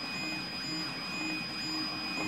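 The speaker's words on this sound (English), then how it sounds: "3D printer." A large-format Orca 3D printer runs quietly, with steady high whines and soft motor hum under faint mechanical chatter, constant and low in level throughout.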